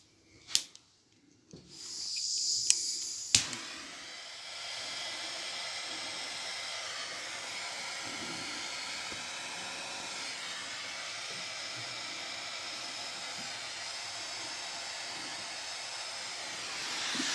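An antique Valor 106R paraffin heater being lit: a few clicks and clunks of handling, then a steady soft hiss of burning that holds evenly for the rest of the clip, faint and close.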